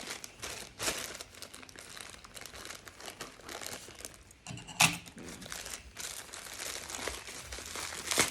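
Plastic wrapping and paper packaging crinkle and crumple as a mailed parcel of NBA trading cards is torn open, close and fairly quiet, in irregular handling bursts with a sharper tear near the middle.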